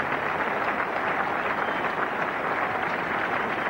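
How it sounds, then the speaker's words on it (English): Cricket crowd at Headingley applauding steadily during a 1979 England v Pakistan World Cup one-day match, a broad, even wash of distant clapping from the stands with no voices standing out. "Good applause"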